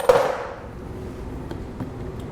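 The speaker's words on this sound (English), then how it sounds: "Usually takes a little tap of a hammer to get this off." A single sharp hammer tap on a part of a BMW R1200RT motorcycle during a service, one crisp knock at the start followed by faint workshop ambience.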